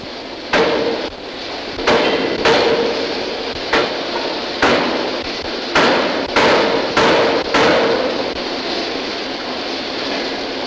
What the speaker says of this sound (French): Vers la salle des marteaux pilons.